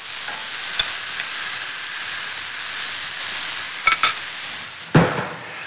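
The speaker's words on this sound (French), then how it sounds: "faire griller, faire saisir la viande au centre et ensuite poursuivre la cuisson sur les côtés" Steak searing on a barbecue grill, seared at the centre before cooking continues along the sides: a steady, loud broadband sizzle and hiss fills the whole stretch, with a few sharp clicks and pops near the end and no voices.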